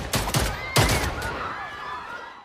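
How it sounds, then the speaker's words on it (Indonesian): A pistol fires in a film scene: two sharp, loud bangs about half a second apart, each followed by short echoing reports that fade out. "Tiba-tiba Han mengeluarkan pistol dan menembak Ketua Ji."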